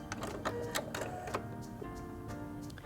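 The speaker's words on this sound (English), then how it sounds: "Press my thread cutter button to trim my threads." A Heavy Duty HD6805C sewing machine's thread cutter trims threads with a steady mechanical whir and a few sharp clicks, close and alone.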